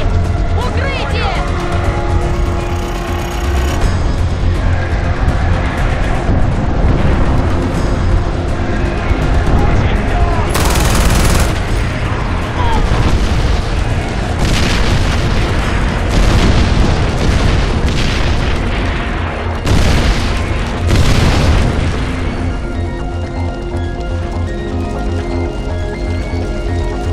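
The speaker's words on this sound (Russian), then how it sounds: "Артиллерия! Пушки!" Heavy artillery cannon blasts and booming explosions in Far Cry 4, a continuous loud barrage of deep rumbling impacts with sharper bursts standing out, while voices shout over the din.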